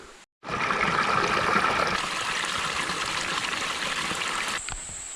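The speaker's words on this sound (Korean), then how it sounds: "굉장히 조용하고 물소리가 좋은 산입니다" Steady rushing water of a rain-swollen mountain stream on Suri Mountain, Gyeonggi-do, flowing nearby, a continuous bright wash that holds level for several seconds before easing slightly at the end.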